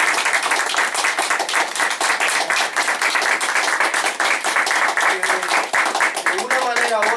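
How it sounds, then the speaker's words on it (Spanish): Loud, steady applause from an audience at a Dominican independence discussion gathering, dense clapping filling the whole stretch, with voices rising in the last seconds. "les pido a ustedes que le den un aplauso bien fuerte."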